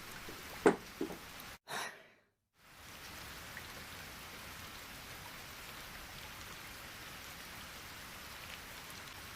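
Steady rain falls in an anime film scene, a soft continuous hiss that begins after a brief drop to silence and then holds evenly to the end.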